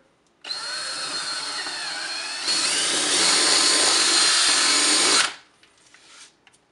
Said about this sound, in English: So go back over our pilot hole and drill through.